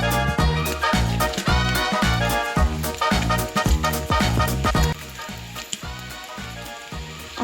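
Bacon frying in a pan that was not preheated first, giving a steady sizzle and crackle that runs under rhythmic background music.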